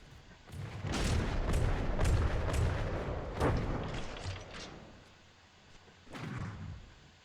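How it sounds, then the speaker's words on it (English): A cram cannon in a naval battle video game fires repeated heavy booms in quick succession, rumbling blasts that fade, then one more boom near the end. "singular cram cannon is contributing 200 firepower"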